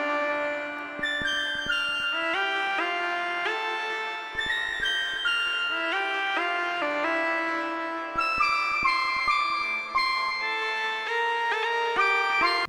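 Two synth lines in a drum and bass track trade phrases back and forth, bright plucky notes with a trailing echo, a melodic call answered by a response, no voices.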